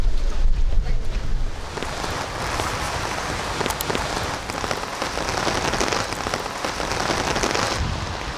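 Rain falls steadily on a hillside street on the outskirts of Seoul, a dense broadband patter with a brief louder gust of wind noise at the start, continuous and fairly close throughout.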